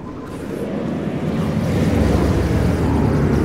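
A squadron of aircraft flying in the video game Spore, a loud low rumbling roar that builds steadily and fills the scene, with no talking over it.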